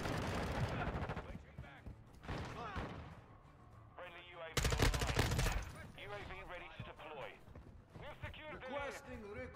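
Rapid bursts of gunfire from Modern Warfare 2 while hip firing, with loud sharp cracks in clusters and one dense, heavy volley midway, mixed with game effects and a person talking over it.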